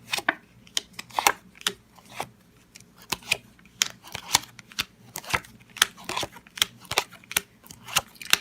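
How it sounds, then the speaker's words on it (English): Tarot cards being shuffled and laid out on a table, a rapid series of sharp, close papery flicks and slaps in an irregular rhythm, heard alone without talk. "We're just going to lay out a couple of cards"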